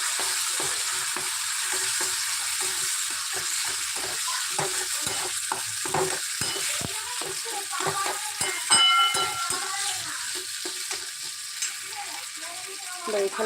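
Boiled potato being stirred in a hot frying pan, with a steady sizzle and repeated scraping strokes of a spatula, close and fairly loud throughout.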